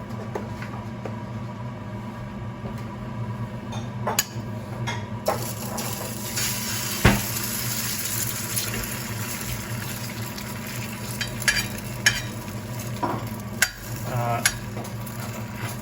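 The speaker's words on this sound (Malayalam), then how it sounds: "എണ്ണ ഒഴിക്കുക, തടവുക, മുട്ട എടുക്കുക, പൊട്ടിച്ചൊഴിക്കുക" An egg frying in an oiled pan for a bullseye, a soft continuous sizzle with scattered sharp clicks and taps of utensils against the pan.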